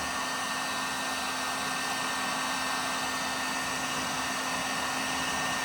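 A heat gun blows a steady, close-up roar with a faint hum under it while warming factory sound deadening inside a 2006 Dodge Ram Mega Cab, continuous and alone throughout.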